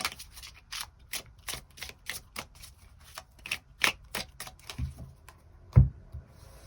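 Tarot cards are drawn from a deck for a love reading, heard as a close, quiet series of rapid papery flicks and snaps in an uneven rhythm, with a duller tap near the end and no talk.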